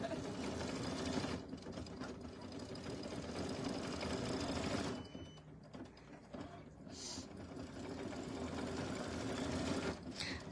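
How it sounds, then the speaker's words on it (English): An embroidery machine stitches a holiday design with a steady, rapid mechanical chatter and hum. It pauses briefly near the middle, then resumes, and faint voices sound in the background. "Somehow our machine didn't get set to trim jump stitches today"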